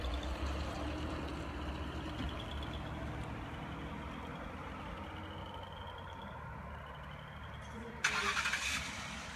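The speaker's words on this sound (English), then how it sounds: "That would be your Cedar Rapids Police Department refusing to do anything and driving away." A Cedar Rapids police car pulls away, its steady engine and road rumble fading slightly over several seconds before a brief louder burst near the end.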